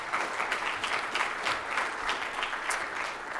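Steady, sustained applause from a large audience at a fintech policy summit, a dense wash of many hands clapping throughout without pause.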